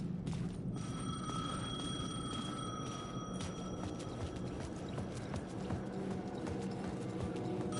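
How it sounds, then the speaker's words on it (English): A telephone rings in the video game Alan Wake 2, with steady repeating bell-like tones over a dense, busy background of clattering game sounds and noise. "phone was ringing. Somehow I knew the call was for me."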